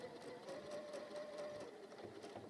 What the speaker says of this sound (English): So I'm just going to sew off that